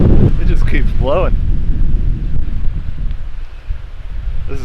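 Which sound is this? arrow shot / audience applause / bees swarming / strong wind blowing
strong wind blowing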